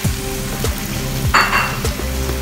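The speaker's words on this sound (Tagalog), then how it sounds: "Isusunod natin ang ating karne. Ayan, ating karne. Ating beef." Beef strips hitting a pan of softened onions for a hoisin stir fry with kangkong, sizzling steadily and close, with a few stirring scrapes and a brief louder crackle.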